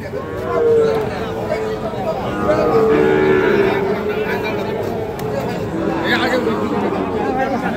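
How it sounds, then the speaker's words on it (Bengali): Cattle at a busy village cattle market low in several drawn-out moos, close and loud, over a constant crowd hubbub with people talking nearby. "আরেকটি গরু"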